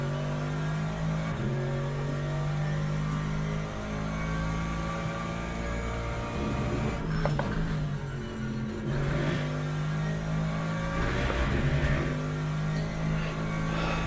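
A race car engine drones and revs steadily in the racing sim Le Mans Ultimate, the pitch rising and falling as it accelerates, with no voices.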